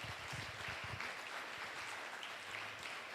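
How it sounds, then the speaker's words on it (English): Audience applause for discussion panelists at a YWCA Northeast Kansas reproductive justice event: steady, fairly faint clapping filling the room without a break. "can we get another round of applause for our panelists"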